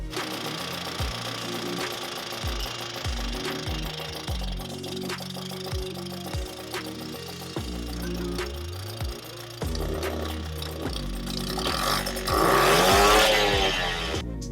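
A Puch Maxi LS moped engine runs steadily right after its first start following a rebuild, choked and running a little rich, with a buzzing two-stroke drone that rises in revs toward the end.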